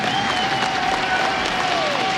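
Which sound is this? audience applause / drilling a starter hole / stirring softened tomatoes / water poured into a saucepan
audience applause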